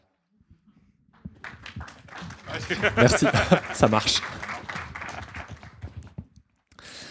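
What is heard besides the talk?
audience applause at a book festival talk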